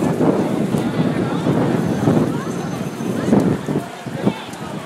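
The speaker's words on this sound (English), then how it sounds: "Ah, it's windy." Wind buffets the microphone outdoors in a crowd queuing for event ticketing: a continuous, loud, rumbling roar with gusts throughout, and people talking and calling out nearby.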